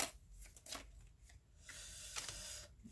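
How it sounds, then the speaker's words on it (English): A deck of tarot cards is shuffled up close, quick papery riffles and soft slaps coming in several bursts with brief pauses between them. "I'm going to have to do a shuffle"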